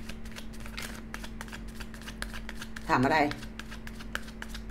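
A deck of tarot cards is shuffled in one short, dense riffle burst lasting about half a second, louder than the surrounding room noise and a soft voice speaking at intervals.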